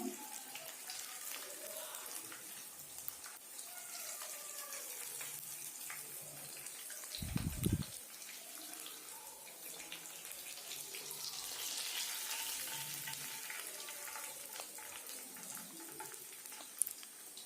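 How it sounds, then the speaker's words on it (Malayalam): Fish frying in a pan on a low flame, a soft continuous sizzle and crackle throughout, steady and fairly faint, with a brief thump midway. "2 സൈഡും വേവിക്കുമ്പോൾ ലോ ഫ്ലെയിമിലിട്ടിട്ട് വേണം ചെയ്തെടുക്കാനായിട്ട്."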